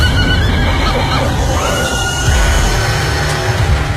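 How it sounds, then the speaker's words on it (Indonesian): A horse neighs loudly up close, a shrill whinny over soft hoof clip-clops and low rumble, with faint talk in the background. "tiba-tiba ada seekor kuda hanya berjarak beberapa meter di depanku"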